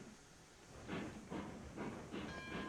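A steam locomotive in the Railroads Online railway game pulls away from a standstill, its rhythmic chuffs building in regular bursts over a low rumble and hiss, fairly loud and with no talk.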